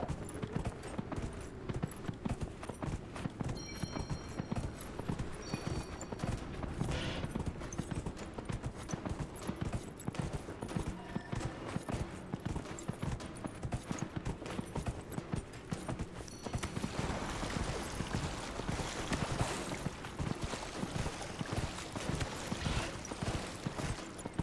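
Horse hooves clip-clop steadily and continuously throughout a horse race in the Hinterlands region of a fantasy video game, a close, even galloping rhythm with faint mechanical clatter beneath.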